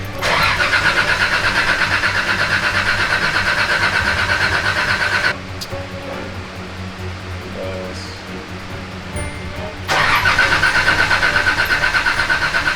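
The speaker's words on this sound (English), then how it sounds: "No spark, no gas, no nothing. All right, cranking." A freshly built car engine turns over on the starter with no spark or fuel, making a steady loud cranking drone for about five seconds, then a pause, then a second run of cranking.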